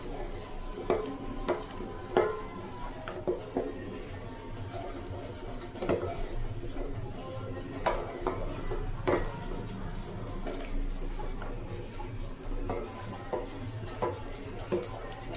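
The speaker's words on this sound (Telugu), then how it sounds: "ఇలా కలుపుతూ ఉండాలండి." Food being stirred in a cooking pot, with a ladle clinking and scraping against the metal at irregular intervals over a soft, faint sizzle, close by with no voices.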